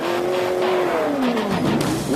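A professional drift car engine breathing through a Borla exhaust screams loudly and continuously at high revs, its pitch sliding downward and then climbing again over about two seconds, with a faint hint of tire squeal and no talking.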